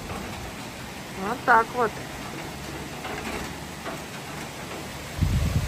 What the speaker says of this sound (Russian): О, какой дождь.